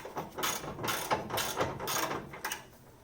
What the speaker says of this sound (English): you can use your ratchet to crank it in from here